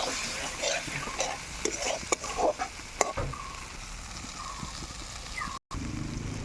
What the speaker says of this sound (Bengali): এবার মেটে আলু আর মশলা ভালো করে আমি কষিয়ে নেব।